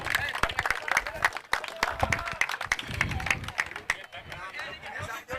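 A crowd at a cricket tournament prize distribution applauds committee members, with loud scattered clapping mixed with chatter and voices throughout.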